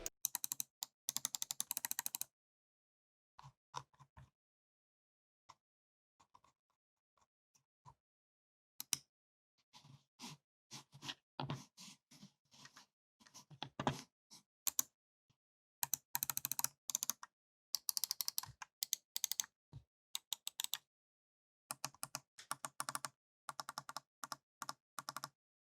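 Keys on a VictSing Pictek gaming keyboard clatter in quiet, irregular bursts of close typing, with frequent pauses between them and no speech.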